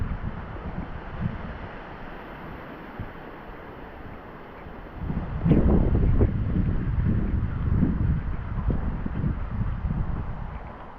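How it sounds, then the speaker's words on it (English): Strong wind buffets the microphone during a walk to the beach in a severe thunderstorm, a rough, continuous roar that swells into heavier gusts partway through, with no talking. "So see how windy it is."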